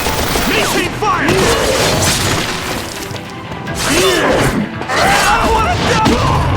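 Heavy gunfire and crashing impacts in the action video game X-Men Origins Wolverine, loud and close, in shattering bursts mixed with booms, while soldiers shout over the combat.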